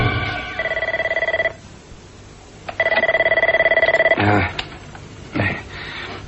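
A telephone rings in loud electronic trills, two long bursts separated by a pause, followed by a clunk as the handset is lifted and brief handling noises; no one speaks yet.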